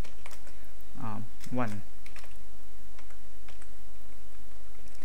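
Code being typed on a computer keyboard, a close, steady patter of rapid key clicks continuing throughout, with someone briefly speaking over it near the start.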